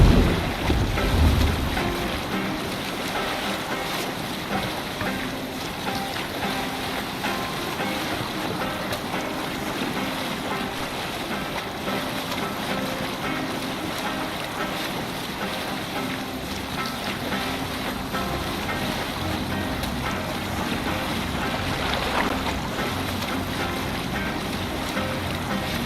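A Viking longship cuts through open sea in Assassin's Creed Valhalla, with continuous rushing waves, hull wash and wind noise, loud and steady throughout, and a brief louder splash near the start.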